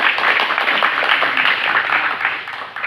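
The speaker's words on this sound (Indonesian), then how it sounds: "berikan tepuk tangan untuk teman-teman" Classmates in a vocational classroom give a round of applause, a continuous dense patter of many hands clapping close by, steady throughout.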